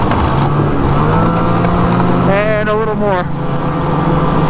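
A snowmobile riding along a road in Illinois, its engine a loud, steady close drone with a brief rising whine in the middle; someone speaks briefly over the noise.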